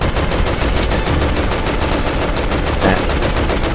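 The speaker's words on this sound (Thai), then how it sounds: "เรายิงเข้าที่หัวเข่านะครับ" Rapid gunfire in the video game Resident Evil 6, a dense, loud, continuous burst of shots with no pauses.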